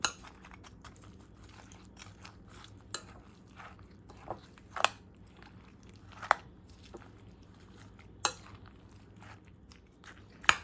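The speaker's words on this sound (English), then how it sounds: "We're gonna mix this up." Shredded root vegetables and potatoes being mixed with salt, pepper and spices in a bowl, heard as soft scraping and crinkling with occasional sharp utensil taps against the bowl.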